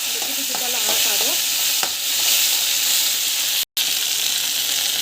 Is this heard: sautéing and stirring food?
yes